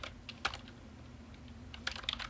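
Typing on a computer keyboard in an office, with quiet clusters of key taps at the start and end separated by a short lull and no talking.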